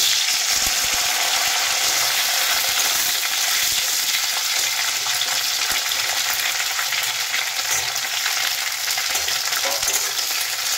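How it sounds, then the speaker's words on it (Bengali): Chopped okra hits hot oil tempered with black cumin seeds and sizzles loudly and continuously, a close, dense frying hiss with faint stirring scrapes and no voices. "তেলটা এখন খুব ভালো মতন গরম হয়ে গেছে। দিয়ে দিচ্ছি কেটে রাখা ঢ্যাঁড়সগুলো।"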